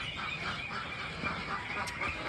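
Meat ducks quack repeatedly on a farm in a rapid, irregular chorus of short calls set against constant background noise, with several birds calling close by.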